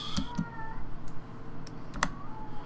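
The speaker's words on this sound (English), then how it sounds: "Also, you hear a cat." A cat meows a few times in the background, short and fairly faint, mixed with scattered computer keyboard clicks during a tabletop game session indoors.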